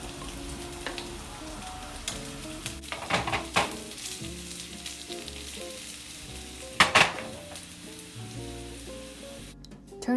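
Potatoes frying in a pan as a side dish for salmon, a steady close sizzle running throughout with occasional louder crackles and stirring clatter, no voices.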